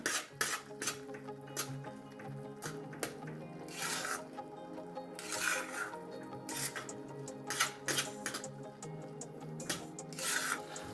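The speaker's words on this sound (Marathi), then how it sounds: "छान होऊ द्यायचा तूप सुटेपर्यंत छान हलवायचं त्याला" Mung dal halwa being stirred in ghee in a pan, giving soft repeated scraping and clinking of a spoon against metal, with quiet squishy sounds in a fairly faint, irregular rhythm.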